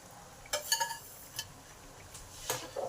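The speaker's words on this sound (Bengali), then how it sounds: "চিনিটাকেও ভালো করে মিলিয়ে দিলাম।" Sugar is stirred into a fish curry with raw mango and drumstick pods in a pot, a spoon scraping and clinking against the metal in a few soft, scattered strokes.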